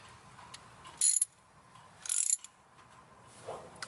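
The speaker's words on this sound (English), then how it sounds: "so we're gonna set this off because this is a a ratchet basically" A ratchet wrench clicks in two short bursts of rapid ratcheting while spark plugs are fitted on a 1978 Chevy van, close and crisp with a quiet pause between.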